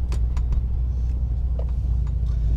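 A Subaru Forester XT fitted with a COBB short shifter driving along, its low engine and road rumble steady and close inside the cabin, with a few faint clicks and knocks over it.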